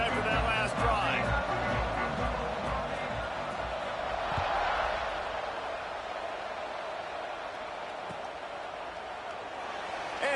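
Broad, steady roar of a stadium crowd at a kickoff in College Football 25, a dense wash of cheering that swells slightly and then eases, under a commentator's voice.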